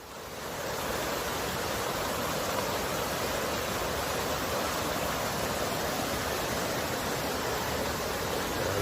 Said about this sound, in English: Beautiful waterfall coming all the way down into Lyell Canyon.